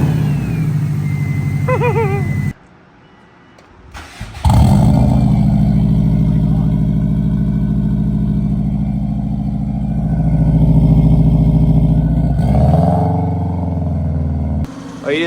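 Turbocharged car engine fitted with a Garrett GT3076R turbo idles and revs loudly, a steady low drone with swelling rev bursts, a brief cut near the start and a rise near the end.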